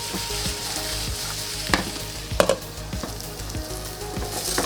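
Swiss chard and chopped garlic sautéing in a pan, a steady close sizzle broken by several clanks and scrapes of stirring, with no voices.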